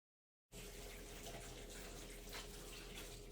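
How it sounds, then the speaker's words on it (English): Steady tap water running into a sink while hands are washed, a continuous close rushing splash that starts abruptly and holds at an even level with no talking. "I'm trying to wash my hands here"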